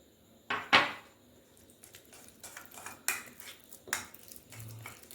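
Close, quiet scraping and tapping of a spoon against a bowl in irregular strokes as paste is mixed.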